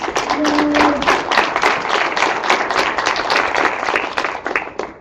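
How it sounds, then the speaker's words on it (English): Applause from a conference audience at the close of a NWACUHO session, loud, close and dense, with sharp individual claps throughout the whole span before trailing off at the end. "let's give a round of applause."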